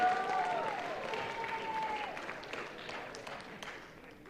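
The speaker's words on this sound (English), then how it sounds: "Let's give your class of 2023 a round of applause." Faint round of applause at a chapel gathering honoring the class of 2023, a soft, fairly distant wash of clapping that slowly tapers off over a few seconds.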